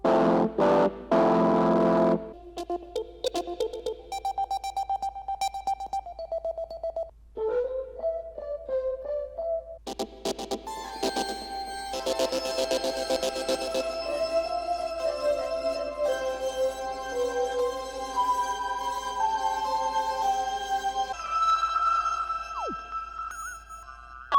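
Electronic organ in FL Studio shifting through various effects, from a buzzy opening burst to sustained chords and warbling, processed layers, alone and moderately loud.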